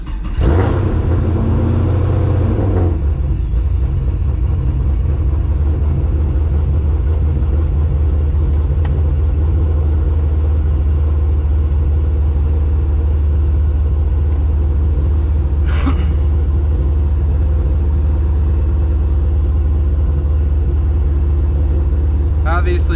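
A boosted Pontiac GTO engine fires up with a brief rising surge, then settles into a steady, loud low idle that rumbles on continuously as it warms up, with a faint mechanical tick now and then.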